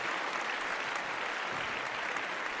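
Applause sound effect played on a live stream, a steady wash of dense clapping and crowd noise, moderately quiet and unbroken for the whole short stretch, with no voices over it.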